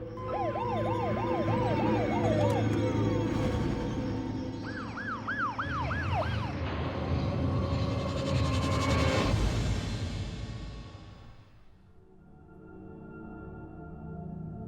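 An ambulance siren wails loudly in rising and falling cycles over traffic rumble, swelling nearby then fading as the vehicle passes.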